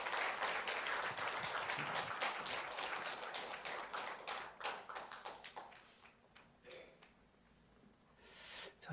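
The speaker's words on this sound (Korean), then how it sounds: "우리 뜨겁게 하나님께 영광의 박수 올려드리겠습니다" A church congregation gives applause, a quiet, distant patter of scattered claps that thins out after a few seconds into sparse taps, with a final small burst at the end.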